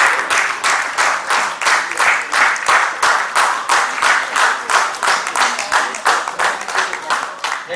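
Audience at the closing session of a Marwari youth forum heritage event claps steadily in a hall. The applause is loud and sustained, with dense, rhythmic hand claps that swell and ebb throughout, and no talking over it.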